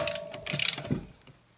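Bolt being tightened with a deep impact socket and ratchet, a short close burst of rapid clicking and metallic clatter that fades within about a second.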